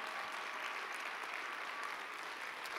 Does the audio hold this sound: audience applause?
yes